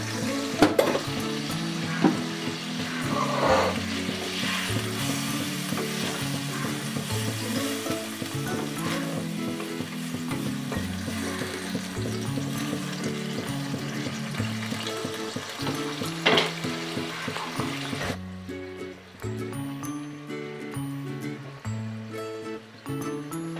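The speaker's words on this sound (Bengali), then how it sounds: "আর একটু জল অ্যাড করছি।" Soya malai chaap gravy frying in a pan as water is added, with a continuous loud sizzle and bubbling and occasional stirring clatter, which quiets abruptly near the end.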